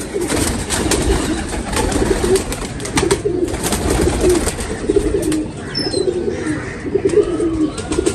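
Pigeons coo repeatedly in a loft or rooftop flock kept for flying, a dense overlapping chorus of low throaty coos that runs steadily throughout with no talk.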